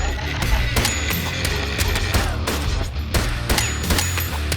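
Shotgun pistol fired in a first-person shooter video game: a steady sequence of punchy, close shots with short gaps between them, repeated about eight times over dense game noise.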